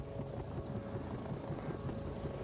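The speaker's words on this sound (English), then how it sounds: "The helicopter's coming too." A helicopter drones in a dinosaur hunting game, its rotor and engine forming a steady low rumbling wash at moderate volume with a faint rhythmic chop throughout.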